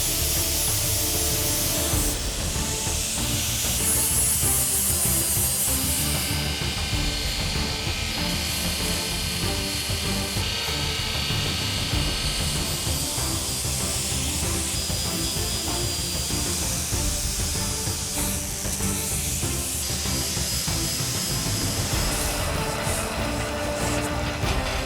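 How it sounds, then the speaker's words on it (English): A grinder works a steel crossguard for a forged pirate dirk, giving off a continuous harsh, hissing rush that holds steady for about twenty-five seconds, close and loud, with no talk. "move on to grinding up my crossguard while I wait."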